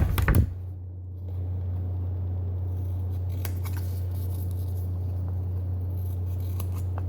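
Scissors make a brief cluster of snips through paper near the start, cutting pieces for a paper rose, then a steady low hum carries on alone for the rest.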